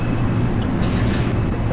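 Steady low rumble of a simulated NYC Subway R142 train on the 5 line to Flatbush Avenue in the snow, a continuous droning hum with a brief hiss of higher noise partway through.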